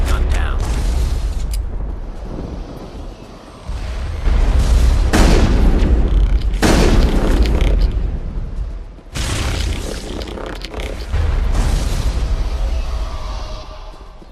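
A big gun fires repeatedly in the video game Mass Effect, several heavy booming blasts with mechanical creaks and rumble between them, loud and close, with a voice speaking over parts of it.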